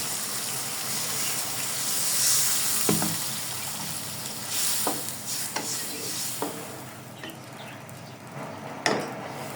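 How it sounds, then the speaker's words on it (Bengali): Water added to small eggplants frying in a pan, a steady hissing sizzle with several sharp bursts of spitting and gushing as the liquid hits the hot pan. "এবার পানি দিয়ে দিব আমি"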